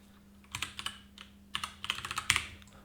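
Typing a username and password on a computer keyboard, with two short, close bursts of quick key taps against a quiet background and no voices.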